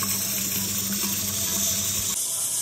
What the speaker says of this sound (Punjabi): ਕੁੱਕਰ ਫਿਲਟਰ 'ਚ ਪਾਣੀ ਮਾਰ ਭਰ ਲਈਏ